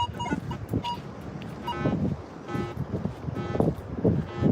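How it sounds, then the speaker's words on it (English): Wind gusts buffet the microphone in low, uneven rumbles at Diamond Beach, with faint voices and brief tones mixed in behind. "Kind of windy."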